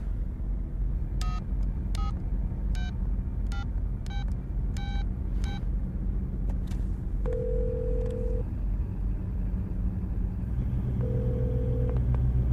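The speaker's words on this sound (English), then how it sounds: "Call me. Dial your number." Telephone number being dialed, a series of about nine short touch-tone beeps in an uneven rhythm, followed by two longer ringback tones, over a steady low rumble.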